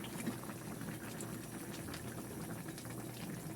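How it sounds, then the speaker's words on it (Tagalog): Liquid boiling hard, a dense, steady bubbling and popping that holds at an even level throughout, close and alone with no talk over it. "Kumukulo."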